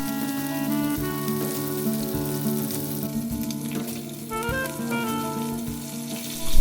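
Clonakilty black pudding fries in a pan for an Irish fry-up, giving off a steady, moderately loud sizzle with soft pops and light ticks throughout. No one speaks.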